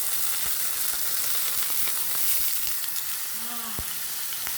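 Steak sizzles and spits steadily in a hot pan, a dense continuous crackle with scattered pops and faint clinks of utensils, close up and with no talking.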